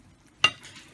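Tomato rice ingredients hitting hot oil in a pan, a single sharp sizzling burst near the start followed by a softer crackle that fades, close and fairly quiet.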